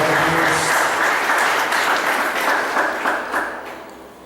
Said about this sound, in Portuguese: Então você aplaude esse Deus em nome de Jesus.